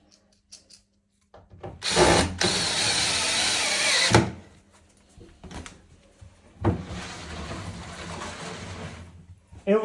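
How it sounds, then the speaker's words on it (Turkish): A cordless drill whirs in two bursts, a long run then a shorter one, driving screws into a wooden washing-machine cabinet, with quiet handling noises between. "Sadece şarjlı matkap ihtiyacınız var kurulum yaparken."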